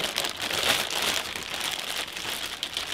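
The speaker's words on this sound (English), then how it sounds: "let's go ahead and unwrap this" Plastic wrapping is peeled off a Star Wars Galaxy's Edge Darth Vader castle toy, giving a steady, close crinkling and rustling that runs for the whole three seconds without any talking.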